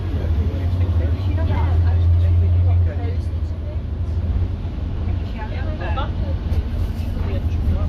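A former Stagecoach Dennis Trident Euro 2 double-decker bus on a Manchester sightseeing run: its engine drones low and steady throughout, heard from inside the bus with people talking over it.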